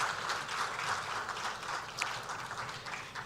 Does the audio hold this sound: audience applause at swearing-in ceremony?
yes